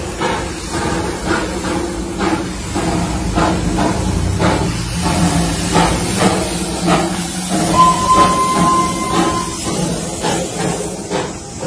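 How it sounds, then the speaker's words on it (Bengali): The Darjeeling toy train running on a misty mountain line, a steady hiss of steam with rhythmic chugging and rumbling, close and continuous, with a brief whistle-like tone midway. "toy train,"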